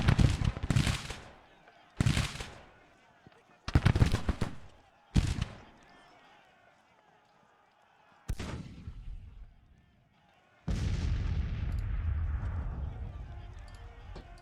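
Irish infantry volleys in Grand Tactician: The Civil War: several loud, sharp musket volleys in quick succession with rolling decay, then a sustained crackle of gunfire near the end, voices speaking under parts of it.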